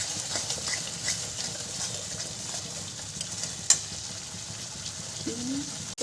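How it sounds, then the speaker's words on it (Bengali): Besan omelette masala with turmeric frying in oil, a steady, fairly faint sizzle and hiss that runs throughout, broken by one sharp clink of a utensil midway. "এবার আমি এটা ভালো করে ভেজে দেবো। একটু ভালো করে ভেজে দিই"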